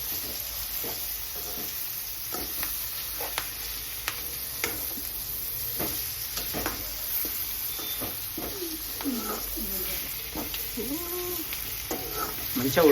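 Marinated chicken frying in a pan, a loud, continuous hissing sizzle with repeated scraping strokes of a spatula stirring it, close and steady throughout.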